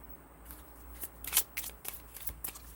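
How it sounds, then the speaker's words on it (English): A deck of new tarot cards is shuffled close up in quick soft riffles and crisp flicks, with a few sharper snaps between them. "Let me shuffle these"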